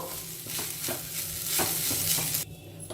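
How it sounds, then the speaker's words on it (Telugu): Rice with spices stir-fried in a pan over a medium flame, a steady sizzle broken by repeated scraping stirs, close and fairly loud, with the sizzle thinning out near the end. "ఇప్పుడు ఇదంతా కూడా కలిపేసేసుకొని మీడియం ఫ్లేమ్లో ఒక రెండు నిమిషాలు ఫ్రై చేసేసుకోవాలి"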